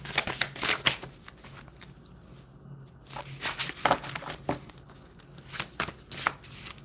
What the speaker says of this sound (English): so I'm just trying to shuffle a little bit here